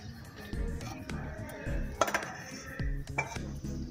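A spoon scraping and clinking against a pan while besan halwa is stirred, irregular metallic knocks and scrapes at close range, with a voice speaking quietly over them.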